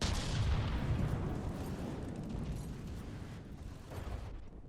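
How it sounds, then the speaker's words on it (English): Heavy cannon fire in a tank battle video game, a loud booming blast that decays into a long rumbling roar, with no voices over it. "one of those deadly kinetic shells has connected with a turret cap"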